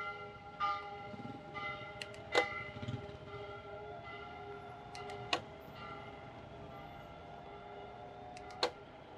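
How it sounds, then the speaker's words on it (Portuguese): A church bell on Avenida Brasil in Maringá, Brazil, rings out at half past six. Several separate clear strikes sound at uneven intervals, each followed by a long ringing decay, over quiet street background. "O sino tocando aí, 6:30."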